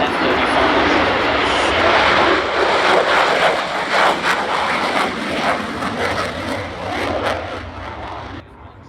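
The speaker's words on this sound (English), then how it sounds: "That is the F-35." An F-35A fighter jet flies past at the Australian International Airshow 2025, its loud, broad engine roar swelling and filling the air for several seconds before easing off at the end.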